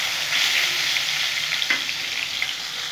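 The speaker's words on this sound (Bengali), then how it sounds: "এইভাবে আমি বাকি মাছগুলো ভেজে নেব।" Fresh tengra fish frying in hot oil, a steady continuous sizzle with a brief clink or stir partway through, close and alone without voices.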